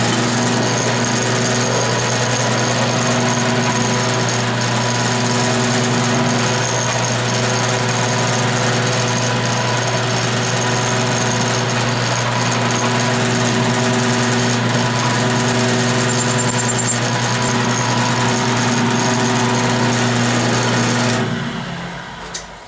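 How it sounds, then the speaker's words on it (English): A drill runs a 5/16 inch pilot hole through metal for a tapping fixture, a steady loud whining hum holding without a break for about twenty seconds before it stops. "Using a 5/16 drill to run a pilot hole through"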